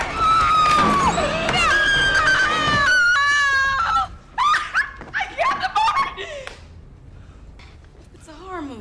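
High, shrill screams and wavering cries from the horror film Candyman 3: Day of the Dead ring out loudly at first, then break into shorter yelps and squeals.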